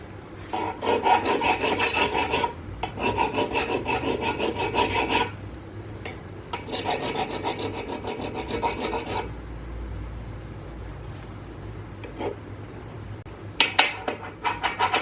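A hand file scrapes a ding off a heavy metal flycutter in repeated rhythmic rasping strokes. Three long bursts of filing are broken by short pauses, then a few lighter scrapes, with no talk.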